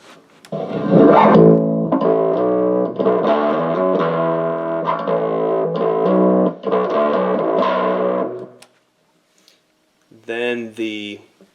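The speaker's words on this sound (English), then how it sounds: "Next up is the blues distortion." Bass guitar run through the blues distortion of a Boss ME-70 multi-effects unit, a loud, close, driven riff of sustained notes with a few short breaks, then silence and a short final burst of notes.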